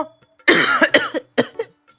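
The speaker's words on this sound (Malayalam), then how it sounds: "പാവം നല്ല ചുമയുണ്ടല്ലേ" Heavy coughing, close and loud: a harsh cough fit of several explosive bursts, then a couple more hacking coughs after a brief pause, with near silence around them.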